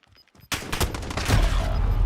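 Video game gunfire erupting suddenly after a quiet start, a loud rapid burst of shots continuing to the end.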